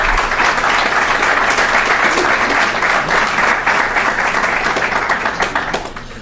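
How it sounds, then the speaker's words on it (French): A room of attendees at a Mosaic creative session breaks into sustained applause, dense clapping from many hands that holds steady before thinning slightly at the end. "je pense que ça mérite une ronde d'applaudissements"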